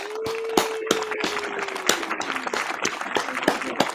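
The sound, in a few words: applause for a guest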